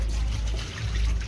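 Water poured into a cooking pot while a home-style chicken masala curry cooks, a brief, steady splashing pour heard close up and alone.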